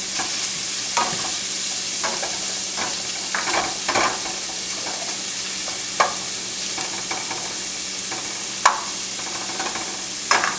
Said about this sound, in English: I'm gonna go ahead and add some pepper, and stir the shrimp